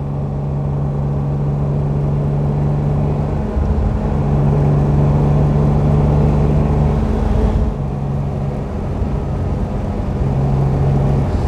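A 1938 Mercedes 320 Cabriolet A's six-cylinder engine runs smoothly and steadily, a close, continuous low hum with a brief dip in tone partway through and no speech.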